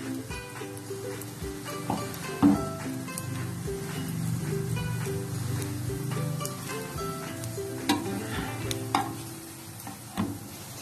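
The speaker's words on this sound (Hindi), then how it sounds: "इनको फ्राई कर लेंगे। इनको आपने हल्की आंच पे फ्राई करना है।" Mutton shami kababs shallow frying on low heat give a steady, moderate sizzle with occasional stirring and utensil clinks, close and continuous without talk.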